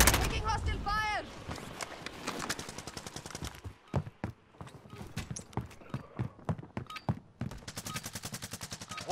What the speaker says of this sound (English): Taking hostile fire.